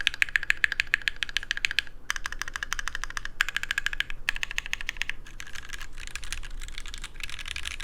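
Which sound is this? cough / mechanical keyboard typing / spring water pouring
mechanical keyboard typing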